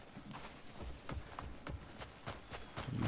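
Horse hooves clip-clop at a steady walking pace in the video game Crimson Desert, a series of soft, evenly spaced thuds close by, with faint ambient game sound underneath.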